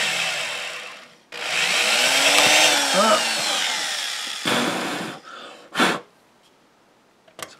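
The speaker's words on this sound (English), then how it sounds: "So we're gonna drill this out the center and try to unscrew it." A power drill drilling out a screw on a pinball machine whines loudly and steadily for several seconds, pitch wavering under load, then a few shorter bursts follow before it stops.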